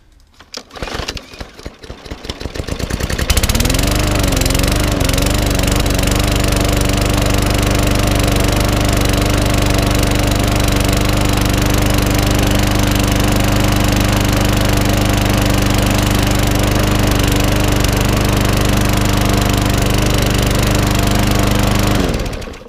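A freezing-cold petrol mower engine, not run yet that day, sputters through a few rough attempts before catching and settling into a loud, steady idle that runs on unbroken and close up.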